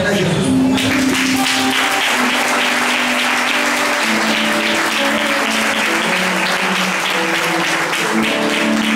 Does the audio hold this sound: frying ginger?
no